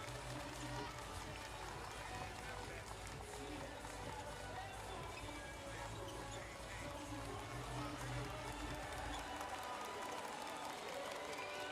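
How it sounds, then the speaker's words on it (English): Visiting Nagasaki Velca fans rise in a standing ovation at a B.League 2024-25 basketball game against Osaka Evessa, a steady dense roar of applause and crowd noise filling the arena while a commentator talks over it. "getting a standing ovation from their visiting crowd, Nagasaki VELCA fans"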